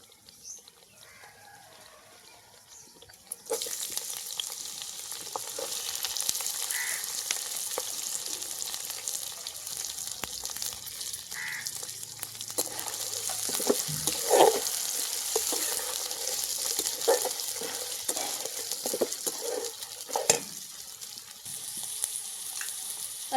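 Onions sizzle steadily as they fry in a pan, with soft stirring scrapes and faint clinks over a continuous hiss, fairly quiet and close.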